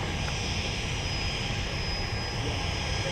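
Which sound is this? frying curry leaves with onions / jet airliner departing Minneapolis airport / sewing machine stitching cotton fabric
jet airliner departing Minneapolis airport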